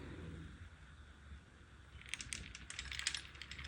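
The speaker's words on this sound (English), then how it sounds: "now we're gonna pour the remainder of the beads" Plastic freshie beads are poured slowly into a mold, a faint dense rattling patter that starts partway through and continues to the end, with no talking.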